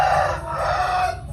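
A champion fighting rooster, a three-time winner, crows once at close range, a short bright strained call filling the whole moment with no voices over it.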